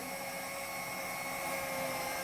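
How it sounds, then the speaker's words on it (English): A power drill bores into hardwood with a steady, high-pitched whine that holds constant and loud throughout, close up and without any talking. "If you drill into hardwood, so I left this here so that we can drill perpendicular."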